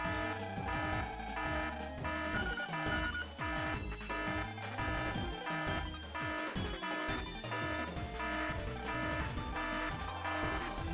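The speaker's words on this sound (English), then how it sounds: "Yeah, just keep blaring that alarm sound, please." Blaring alarm from the Mega Man Star Force 3 video game, a loud, steady repeating electronic tone over busy game music that runs without a break.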